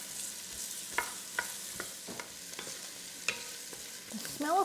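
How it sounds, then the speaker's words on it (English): Onions and garlic sizzle softly in hot oil, frying for an octopus stew, while a utensil stirs and scrapes the pan in irregular taps. "I'm just going to fry those off till it starts to soften and go a bit translucent."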